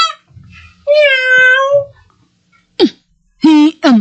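A cat meows a few times, clear and close, with short bursts of other voices or noises between the cries.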